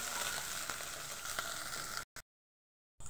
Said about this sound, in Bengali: তেলটা গরম হয়ে গেছে, দেখুন এইভাবে আমি চিকেনগুলোকে ছাড়িয়ে নিয়ে আনছি। দিয়ে দিলাম, দিয়ে একটু নাড়াচাড়া করবো।